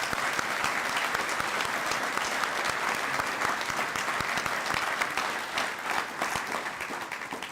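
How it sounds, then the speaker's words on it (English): Sustained, dense applause from a large audience at a teacher education convocation, steady and loud throughout before tapering slightly at the end, with no speech over it. "Another round of applause."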